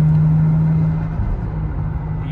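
A Toyota JZX100 fitted with an HKS Hi-Power exhaust cruises on a highway, heard from inside as a loud, steady low engine drone and road rumble with a slight pitch shift midway.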